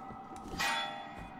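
Bells ring out in Blasphemous, struck by bell-ringer figures: one bright, resonant clang swells and then decays, with a fainter earlier strike and a later soft one, quiet and reverberant.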